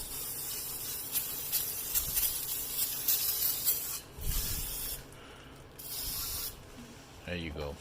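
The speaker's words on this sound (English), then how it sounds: "I know people would say not to put the brake cleaner here, but that's not gonna hurt it" Brake cleaner sprays in repeated hissing bursts onto the rear brake parts of a 2007 Honda CR-V, close and fairly loud, with brief pauses between bursts and a short voice near the end.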